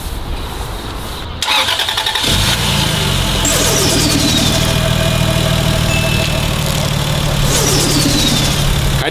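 A Toyota Aristo with a 2JZ turbo engine cranks and fires up, then settles into a loud, steady idle with an even rumble and a faint whine.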